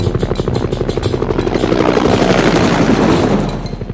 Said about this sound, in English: Look at the helicopter fly away!